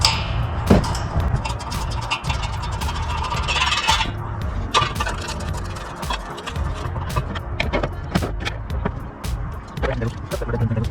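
Stock factory bolts threaded back in while fitting a K&N cold air intake, a steady run of close metallic clicks, taps and scrapes with occasional sharp knocks.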